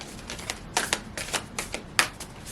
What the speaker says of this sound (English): Shuffling the Moonology deck if you're curious.